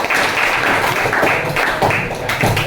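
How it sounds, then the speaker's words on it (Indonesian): A classroom group breaks into steady, dense hand clapping during a teaching practice session, loud and close, lasting a couple of seconds with no talk over it. "Tepuk tangan buat kita semua."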